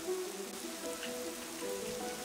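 Soft, steady rain patters in Kingdoms and Castles, a faint, even hiss of falling drops with no break across the short stretch.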